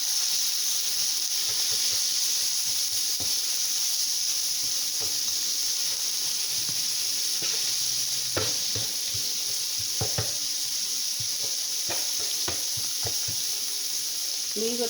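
Ground beef for a Philly cheesesteak sizzles steadily on a hot griddle, a continuous close hiss broken by occasional spatula scrapes and taps, with no voice.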